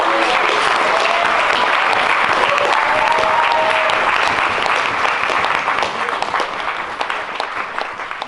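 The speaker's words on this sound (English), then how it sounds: "can I just say a big clap for Hatty" Wedding guests in a reception room give sustained, loud applause for the bride Hatty, a dense continuous roar of clapping that thins slightly toward the end.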